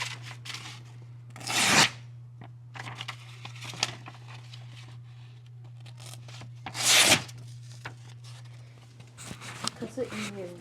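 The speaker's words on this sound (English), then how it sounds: "The Formax Scout cut the paper easier than the SRK-C" Two sharp, ripping slices as a Cold Steel 4 Max Scout knife cuts paper, amid quieter rustling and handling noises, with low talk and a steady hum underneath.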